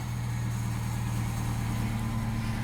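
A 2009 Subaru Forester engine idles steadily after starting, a low, even hum with a constant throb and no voices, loud and close throughout.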